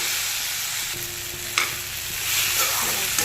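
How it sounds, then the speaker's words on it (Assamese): Potatoes fry in a pan with a steady, close sizzle, broken by occasional scraping stir strokes. "আলুখিনিও ভাজিলোঁ"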